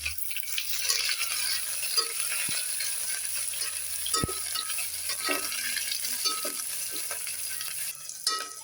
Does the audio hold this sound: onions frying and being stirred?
yes